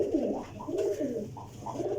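A male Teddy pigeon at a pigeon show coos in soft, repeated rolling phrases, close and fairly quiet, with no talking over it.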